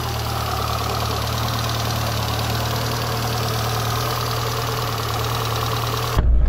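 A 1986 Peugeot 205 GR turbo engine idles steadily with a low, even rumble and slight knocking vibration, close and loud, before a sudden change near the end as revs pick up.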